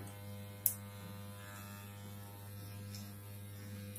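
Steady electric shaver buzz with a mains-like hum runs throughout as a head is shaved, close and even, with one brief sharp click near the start and no talking.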